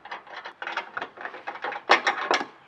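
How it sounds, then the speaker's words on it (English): A wrench tightening a shock clevis on a Jeep JK makes a quick series of short metallic ratcheting clicks in uneven bursts, close and fairly quiet, without talk. "We're going to use the wrench, or you can get your crescent wrench in there and hold it too and get your final good snug on that."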